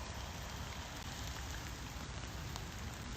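Steady rain falls through the trees around Green Lake, Washington, a dense, even patter of drops on leaves and surfaces that holds constant from start to finish with no voices.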